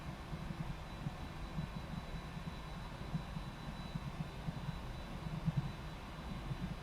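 A jet airliner taking off from Paris Charles de Gaulle, bound for New York JFK, heard as a faint, distant, steady engine rumble with soft thuds and no talk.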